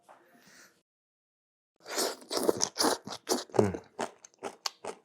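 Crisp, close bites and chews of freshly tossed Korean-style carrot rapé, a gluten-free shredded carrot salad: a brief faint rustle, a pause, then a steady run of about a dozen loud crunches.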